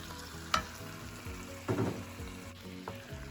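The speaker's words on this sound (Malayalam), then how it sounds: "ഇനിയിപ്പോൾ നമ്മൾ ഇതിലോട്ട് കഴുകി വെച്ചിരിക്കുന്നത് നമ്മുടെ ചിക്കൻ പാർട്സ് ഇട്ട് കൊടുക്കണം." Chicken liver and hearts fry in a pan for a Kerala-style dish, a crackling sizzle with a few sharper bursts as the pieces are stirred, close and without talk.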